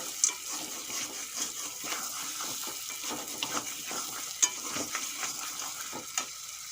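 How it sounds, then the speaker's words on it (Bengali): Layer chicken meat cooking in a pot, a soft bubbling sizzle broken by uneven scraping strokes and a few clinks of a spoon, heard close with no talk. "দেখুন মাংস ফুটছে"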